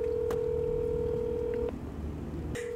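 A telephone plays a steady dial tone, then a single DTMF keypad tone near the end, heard clearly over faint room hum.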